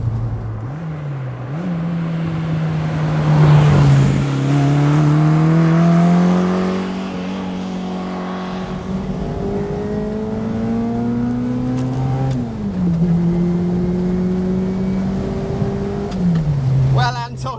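A Fiat 600 engine hums and revs up and down while driving, rising and falling in pitch, loud and close, with some speech faintly underneath.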